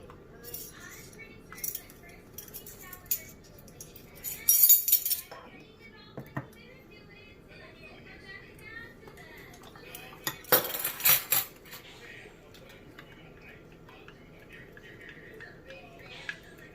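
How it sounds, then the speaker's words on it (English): A spoon stirs a yeast mixture in a bowl while bread is being made, producing light scraping and occasional clinks against the bowl, with a couple of louder clatters partway through. "Just make sure you get it stirred up pretty good."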